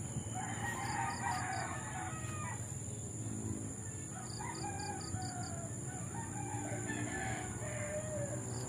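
Roosters and chickens crow and cluck in an open field, the drawn-out calls repeating at moderate distance over a steady outdoor background with faint high insect or bird tones; no one speaks.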